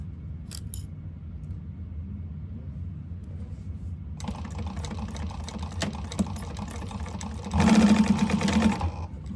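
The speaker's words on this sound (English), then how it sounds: "we're just sewing the short ends" A sewing machine stitches the short ends of a fabric candy bag, starting after a quiet pause with a rapid mechanical whirring and clatter that grows louder and faster in a final burst.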